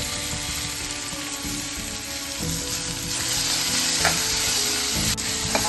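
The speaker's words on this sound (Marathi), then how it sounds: "टोमॅटो पण चांगले सॉफ्ट होईपर्यंत आपण भाजून घेऊया" Chopped onion and tomato sizzle steadily in a hot pan for matar paneer, a dense continuous frying hiss with faint stirring scrapes, loud and close with no voices.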